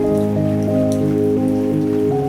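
Rain falls outside a café in a close, steady patter, layered over a low sustained hum with no voices.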